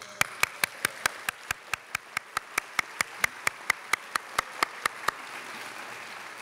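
At a 2019 university convocation, a single pair of hands claps in an even, crisp rhythm, about twenty close sharp claps over five seconds, then quiet room tone.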